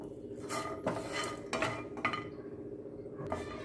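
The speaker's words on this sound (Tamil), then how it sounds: "எண்ணெய் இல்லாமல் வெறும் பேனில் தான் வறுக்கணும்" Dry-roasting spice powders in a bare pan with no oil, heard as a few distinct metal scrapes and clinks of a spoon against the pan over a low steady background, with no one speaking.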